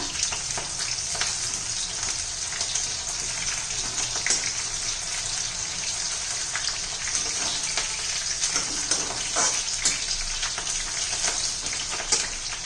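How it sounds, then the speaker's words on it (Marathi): Green chillies fry in hot oil, giving a steady, even sizzle with scattered crackles and pops throughout, fairly close and continuous with no voices. "आता मी मिरच्या तळून घेते थोड्याशा"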